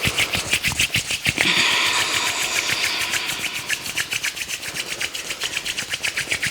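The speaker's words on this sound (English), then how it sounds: "Press your palms together and then rub them together." Bare palms rubbing briskly together, a rhythmic swishing rasp of skin on skin repeating evenly several times a second, close and fairly quiet, with no talking.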